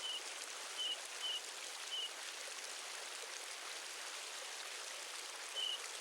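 A mountain stream near Avalanche Gorge in Glacier country rushes with a steady, broad hiss of flowing water. A few faint, brief high chirps sound briefly over it.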